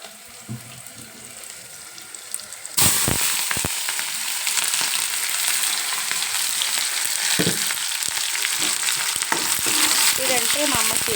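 Onions and green chillies drop into hot oil in a pan, setting off a sudden loud, steady sizzle that carries on to the end, with a few scrapes of stirring in it.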